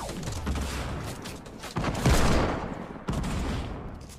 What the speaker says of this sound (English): I got a deagle shot.